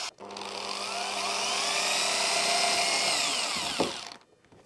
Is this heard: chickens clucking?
no